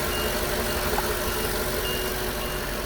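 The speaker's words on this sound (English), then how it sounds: "I'm just going to start it up and idle it." An 8.1 Vortec V8 in a Workhorse motorhome chassis idles steadily with a constant, dense mechanical rumble and no pauses, close to the microphone and with nobody speaking.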